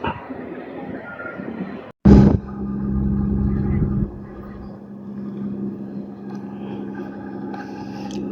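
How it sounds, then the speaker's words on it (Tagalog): A utility boat heads back near an artificial island, its engine a steady low drone that swells louder after a sharp sudden burst, then settles into a continuous hum that carries on to the end. "So ito na yung utility boat kanina na nakita natin guys Pabalik na siya."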